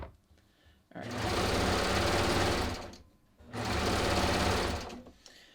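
A serger sewing machine stitching fabric in the round around a neckline or armhole facing runs in two loud, steady bursts of about two seconds each, with a short pause between them.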